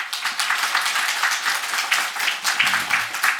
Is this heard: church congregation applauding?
yes